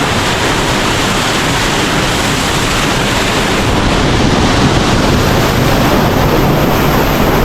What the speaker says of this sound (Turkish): Su bir anda şiddetli düşüyor. Her yeri ıslatıyor.